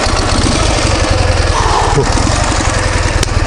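Car engine running right after starting on a winter day in the Urals, a close, loud, rough idle with steady low pulsing throb and no talking.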